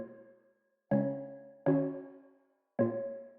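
Synth pluck widened with chorus and shaped by EQ hits a chord three times, each note ringing out and decaying into brief silence, with nothing else present.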